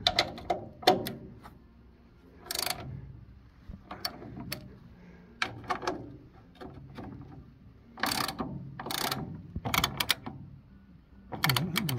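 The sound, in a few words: tightening nuts with a spanner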